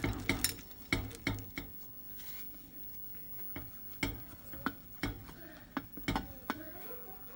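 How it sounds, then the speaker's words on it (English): A spoon scraping and tapping against a pot of melting chocolate for chocolate-covered strawberries, with sharp intermittent clinks and knocks separated by quieter stretches of soft stirring, close and fairly faint. "That's when you know to start stirring it."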